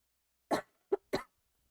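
Three short coughs from a congested person, close and clear, a longer first burst followed by two quicker ones, with quiet between.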